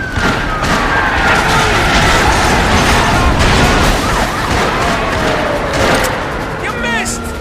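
Gunfire and sirens in the opening car chase of the video game The Darkness, shots crackling under a wailing siren and engine roar, with shouting voices over the loud action.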